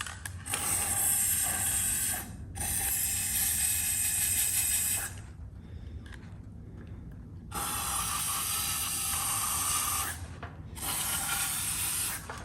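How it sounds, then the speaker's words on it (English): Motor lubricant sprayed from an aerosol can into the vents of a 75-year-old Van Dorn drill during restoration, several long hissing bursts with short pauses between, close and steady. "first I'm spraying it in the vents here."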